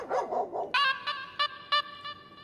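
A person imitates a dog's bark: a brief wavering vocal sound, then about six sharp, ringing yips in quick uneven succession, close and loud with no other talk.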